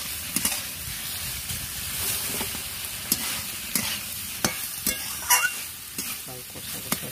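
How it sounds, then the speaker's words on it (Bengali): Potato and soybean curry being stirred in a pan: a close sizzle under repeated spatula scrapes and knocks at irregular intervals. "নেড়ে দিচ্ছি"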